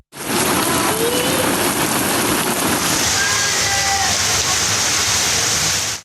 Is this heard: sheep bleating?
no